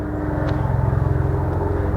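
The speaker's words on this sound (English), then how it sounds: "helicopter." A helicopter passes overhead, its rotor chop a steady rapid low throb, loud and close throughout without voices.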